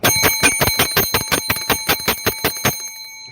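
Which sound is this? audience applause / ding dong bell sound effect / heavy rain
ding dong bell sound effect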